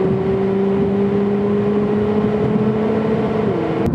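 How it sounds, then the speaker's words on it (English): A Toyota Corolla with an automatic transmission accelerates with a steady engine drone and whine, and a shift in pitch comes near the end. "we'll count the shifts as it shifts. That's first gear, second gear, third gear."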